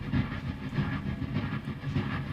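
Improvised train noise made as percussion for a song in pre-production, a rhythmic chugging clickety-clack pulse repeating steadily for a couple of seconds, close and alone.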